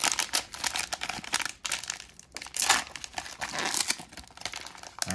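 Cellophane wrapper on a 2021 Mosaic football trading card pack being torn open up close, loud crackling crinkles and ripping bursts with brief pauses between handfuls.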